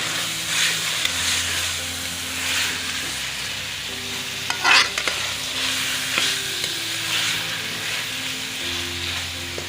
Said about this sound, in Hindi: ये बीफ कलेजी और आलू की अच्छी तरह भुनाई हो गई है।